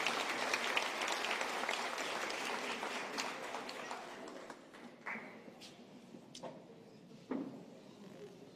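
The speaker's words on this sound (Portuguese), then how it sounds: "Uma salva de palmas, por favor." Audience applause at a talk about a UFO case in the mountains, a dense patter of many hands that gradually thins and fades, leaving a few scattered last claps near the end.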